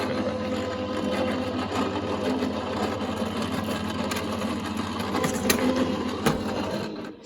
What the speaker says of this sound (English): Push them into the die cutting machine.